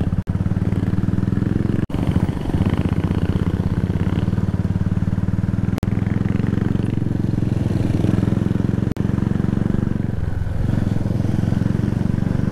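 A Royal Enfield Bullet motorcycle engine thumps steadily at close range on an off-road hill track, a low continuous rumble with a few sharp clicks and dropouts.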